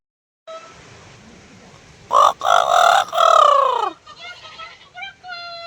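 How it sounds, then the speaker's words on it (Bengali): Chickens in a farmyard beside a vegetable garden give a run of loud, harmonic squawking calls, the strongest burst in the middle and shorter calls at the end, over a faint background hum. "সারা দিচ্ছে মুরগিগুলো সব চলে এলো এদিকে"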